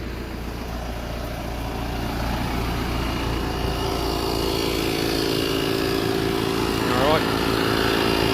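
A 12 volt tyre inflator compressor pumps up a tyre, a steady loud mechanical drone with a buzzing motor hum that runs continuously throughout, close by, with faint background noise.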